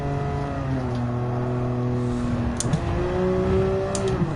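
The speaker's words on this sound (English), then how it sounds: "car's too noisy inside." A Gran Turismo 7 race car engine drones steadily with shifting pitch, loud and continuous from the cockpit, with a couple of brief higher clicks near the end and no talking.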